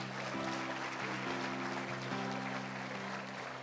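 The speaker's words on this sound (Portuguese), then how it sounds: "Salva de palmas a Jesus por esse povo aí," A church congregation claps together, a dense, even patter of many hands held at moderate level over a low, constant hum for several seconds.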